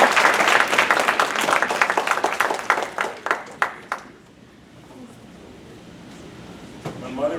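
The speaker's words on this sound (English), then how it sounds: "Now, everybody give a round of applause to Dr. John Satumba." Audience applause for a speaker at a science event, several seconds of crowd clapping that thins into a few scattered claps and then stops, leaving near silence.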